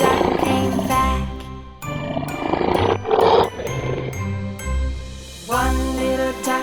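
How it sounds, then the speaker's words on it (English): A lion roars repeatedly in deep, loud, rumbling bursts amid layered children's-song music and jingling effects. "Lion."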